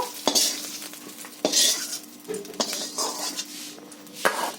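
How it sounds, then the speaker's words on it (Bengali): Fried spice mix is scraped and lifted out of a metal pan with a spatula, giving a few close, distinct scraping clinks and stirring rasps over a light sizzle, with no talking. "তো বন্ধুরা মশলাটা পুরো ভাজা হয়ে গেছে, আমি তুলে নিচ্ছি।"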